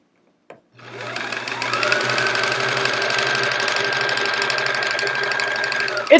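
A sewing machine runs steadily for about five seconds while chain piecing quilt rows for an improv chevron quilt, a continuous close whirring hum with a short click at the start and a clunk as it stops.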